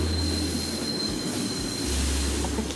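A Mugunghwa train runs on rails in the Roblox video game, giving a steady rumbling roll with a high squealing tone from the wheels. No one talks.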